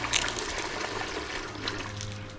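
Toilet flush in the Heavy Rain video game, a steady rushing trickle of draining water that holds at an even level throughout, with no talk over it.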